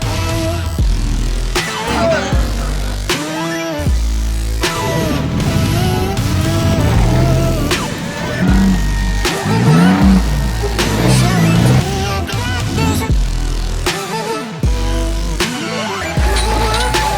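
Toyota off-road vehicles drive up toward a rock garden course, with engines revving and rising in pitch, loud nearby motor sweeps overlapping, and scattered voices in the background.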